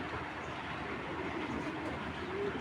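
Pakistani Giribaz pigeon, a female, cooing softly against a steady background hum and murmur, the low coos faint and continuous through the short stretch.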